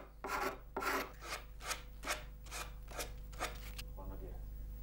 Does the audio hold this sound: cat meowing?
no